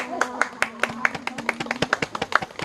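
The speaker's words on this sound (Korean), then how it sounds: "박수 한번 쳐주세요" Hands clap in a quick, fairly regular rhythm of about a dozen sharp claps, close by, with a low hum running underneath, during a children's forest ecology class.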